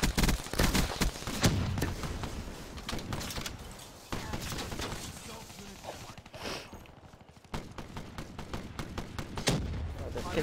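Close-range shotgun blasts ring out in rapid, irregular bursts during a Call of Duty Black Ops 3 multiplayer match, mixed with scattered impacts and a player talking over the action.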